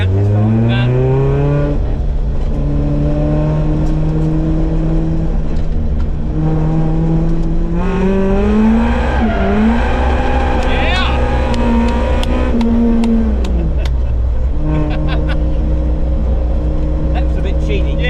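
A car engine revving hard against the rev limiter, a loud close drone that climbs, holds and drops repeatedly, with a stuttering burst midway and no talk over it.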